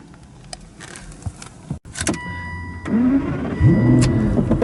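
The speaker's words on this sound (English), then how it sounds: "Listen to that noise, that's a V12." Aston Martin DBS with a 6.0 V12 engine starting up, a whirring starter followed by the engine catching and rising into a deep idle rumble, heard close with no talking.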